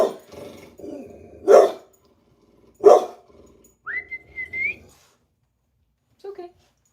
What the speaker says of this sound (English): Sorry guys, that's my dog. She heard a dog.